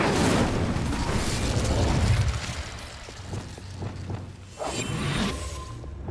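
Incendio fire spell cast in Hogwarts Legacy, a loud roaring whoosh and booming burst of flame that swells, dips and flares again over continuous game ambience.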